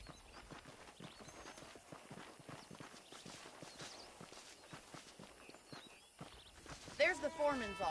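Horse hooves clip-clop steadily in Red Dead Redemption, a rhythmic trotting pattern under a continuous game soundscape, with a voice breaking in near the end.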